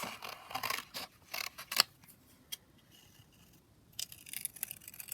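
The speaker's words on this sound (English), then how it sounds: "So if we just cut out kind of ticket here." Sharp scissor snips cutting out a paper ticket from bird-themed craft cardstock, several quick close cuts in bursts near the start, a lone snip mid-way, then more rustling cuts at the end.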